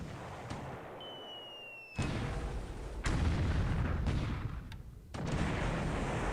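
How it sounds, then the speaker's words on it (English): Naval shells strike a Japanese merchant ship in the War in the Pacific game, a series of heavy booming impacts and rumbling blasts, several loud hits in quick succession with no voices. "All right, so 6 more shell hits into the Dado Maru."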